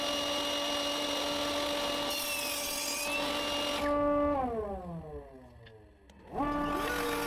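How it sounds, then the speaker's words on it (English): A power saw cuts a small wooden piece for a key holder shelf: a loud steady whine that drops in pitch as the blade bites into the wood, then spins back up at the end. "Next, I cut a piece measuring 8 by 15 centimeters"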